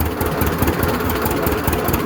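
A 1937 unstyled John Deere A tractor engine runs in high gear at about 6.5 mph, a steady, loud, close chugging rumble with a rapid knocking pulse and no speech.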